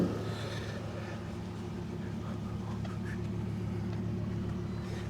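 A car engine idles and runs steadily during a troubled test drive, a constant low droning hum throughout.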